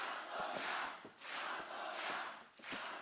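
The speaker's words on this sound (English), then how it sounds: "Now the crowd calling Satomura out loud." A pro wrestling crowd chanting a wrestler's name in a rhythmic, repeating shout, with three loud swells across a large arena, heard from a distance with no voice over it.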